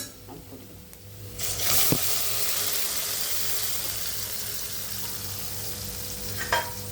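Onions sautéing in a pan for a South Indian greens dish, a soft steady sizzle with occasional light stirring scrapes, fairly quiet and with no voices.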